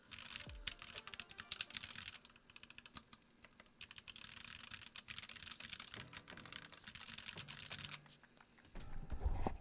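Close-up typing on a mechanical keyboard fitted with thinly lubed Silk Yellow switches, steady rapid keystrokes with soft clacks running throughout and a brief pause near the end.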